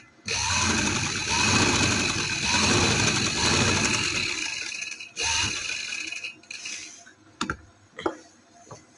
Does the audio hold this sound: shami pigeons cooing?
no